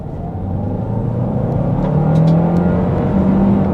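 Kia Carnival Hybrid 1.6 turbo van accelerating downhill on a country road, heard from inside as a steady, rising engine and road rumble with a faint whine climbing in pitch throughout.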